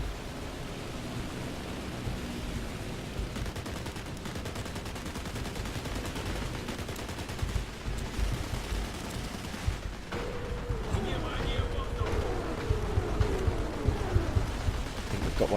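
Rockets launch from a Ya-5M artillery boat during a War Thunder naval battle, under a dense, steady wash of gunfire and engine noise. The firing stays loud and continuous throughout, with no voices.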